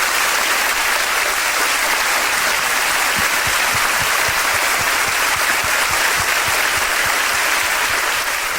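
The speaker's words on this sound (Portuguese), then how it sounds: "vamos dar um forte aplauso" Steady audience applause at a church Bible study, a continuous dense wash of clapping that holds at an even level throughout without pause.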